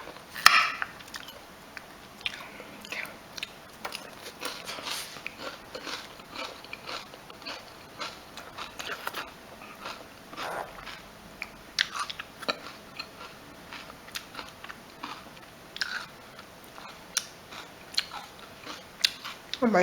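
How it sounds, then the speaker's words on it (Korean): Raw onion bitten and chewed at a meal with fried eggplant, heard as close, crisp crunching bites and moist chewing that come in irregular bursts, with quiet voices now and then. "이거 양, 양파를 한번 먹어보자"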